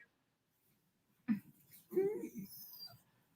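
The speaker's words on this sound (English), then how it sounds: "I'm so glad Coco has a bark on camera." A dog gives a short, faint bark or two in a quiet indoor room, with brief breathy sounds in between and long stretches of near silence.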